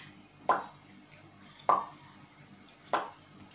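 A voice imitates the pop of opening a bottle, three short mouth pops spaced about a second apart, close and fairly loud against a quiet background.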